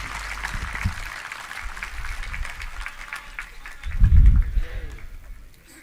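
An audience claps at a ceremony marking Thakur Ram Singh's 111th birth anniversary in Hamirpur, a moderate wash of scattered applause under faint speech, with a heavy low thump near the end.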